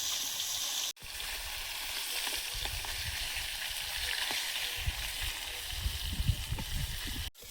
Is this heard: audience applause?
no